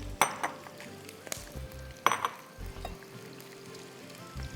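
Battered chicken pieces frying in oil, with a soft steady sizzle beneath sharp metallic clinks and knocks of a utensil against the pan, two louder clatters standing out among lighter taps.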